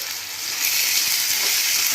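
Potatoes fry in a pan with salt and turmeric, giving a steady, close sizzling hiss that grows slightly louder after the first moment. No one speaks.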